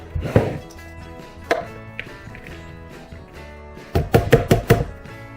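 A food processor mincing a large onion in a few short, loud pulsed bursts close by, with quieter moments between them.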